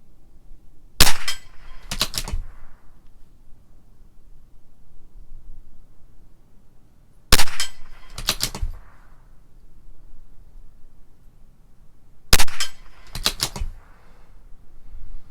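Three pairs of sharp rifle reports from a CZ 457 LRP .22 rimfire firing Norma Tac-22 ammunition at 50 yards, each crack loud and close with a short decay, the pairs spaced about five seconds apart.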